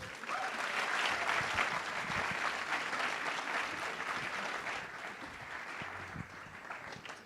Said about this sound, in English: please give her a round of applause, everybody